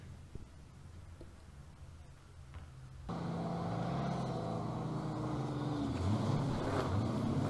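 A Fiat Strada drift car with a Corvette LS3 6.2-litre V8 runs at a drift series event, its engine note rising sharply into a loud, sustained roar that climbs and varies in pitch, with faint commentary underneath.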